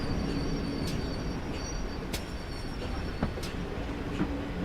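GWR King Class 6000 steam locomotive running in Train Simulator, heard as a steady, loud rolling rumble of wheels on rail with occasional sharp clanks and faint high squeals.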